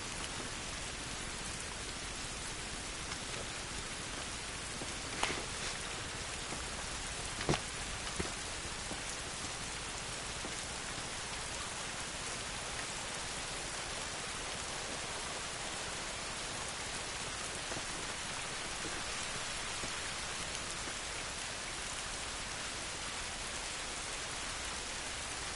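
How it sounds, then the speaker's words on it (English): Steady rain pouring outdoors in the video game The Last of Us, a dense continuous hiss of drops on surfaces with a couple of brief louder knocks, no talking. "This rain ain't gonna do us any good."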